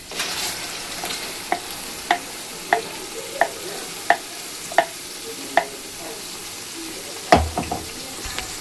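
Garlic and onion paste with asafoetida frying in a pan, a soft steady sizzle under a series of regular light knocks and scrapes of a spoon against the pan, ending with a louder clatter.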